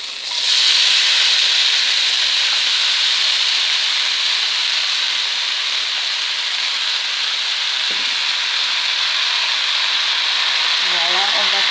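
Courgette and red pepper frying in a spoonful of oil for vegetable samosas, a steady close sizzle and hiss running the whole time, with a brief clink near the end and faint low voice sounds.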